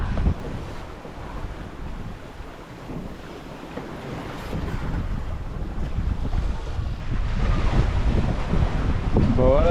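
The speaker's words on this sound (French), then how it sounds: "une navigation de nuit là. On se fait un petit peu chahuter, on a de la vague croisée." A sailboat crossing the Pacific at night, pitched about in confused crossing waves with steady wind buffeting the microphone, a continuous loud rush of water and wind that swells toward the end.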